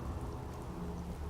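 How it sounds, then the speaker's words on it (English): Steady rain falls in the Fallout 4 video game, a soft, even hiss of drops on surfaces that carries on without a break through the short stretch. "It's all rainy and scary."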